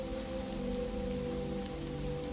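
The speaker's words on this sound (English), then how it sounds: "the rain stays with you" Rain patters steadily on umbrella fabric on a night street in Greenwich Village, New York City, an even dense hiss of drops with a low constant hum underneath and no breaks.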